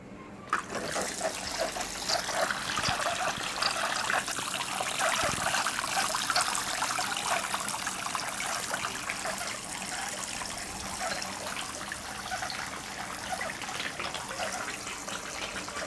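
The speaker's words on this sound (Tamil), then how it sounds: "அதை ஆன் பண்ணோன்னா இங்கே தண்ணி இப்படி ஏறும் பாருங்கள் ஃப்ரெண்ட்ஸ்." A switched-on decorative water fountain runs in a continuous, even trickle and splash, steady and close from start to finish.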